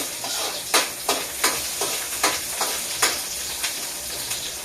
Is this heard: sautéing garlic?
yes